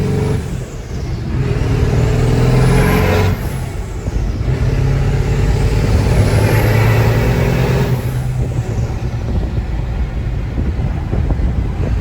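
A 600HP 7.3 Powerstroke diesel truck pulls hard on a test drive, its loud engine droning steadily and rising through the gears, close and continuous with road rumble underneath.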